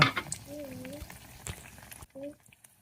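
Oil pitha cakes frying in hot oil, a bubbling sizzle running under a voice and then cutting off sharply.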